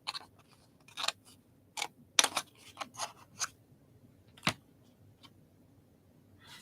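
Scissors cut out a paper dragon hand puppet in a quiet room, with a handful of sharp, separate snips and clicks spaced irregularly, close and fairly faint.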